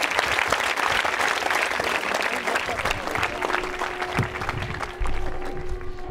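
An audience at a women's engineering college quiz show in Ajmer breaks into vigorous applause after a correct answer, a loud, continuous clatter of many hands lasting several seconds, with a faint tone and some murmur underneath.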